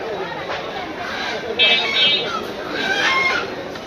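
Native chickens and roosters at a livestock market cluck and squawk in short bursts, fairly close, amid a busy background of people talking.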